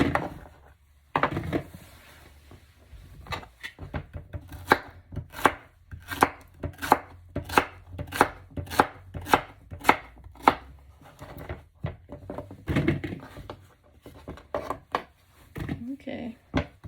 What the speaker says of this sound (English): We're just gonna chop it. It doesn't have to be little.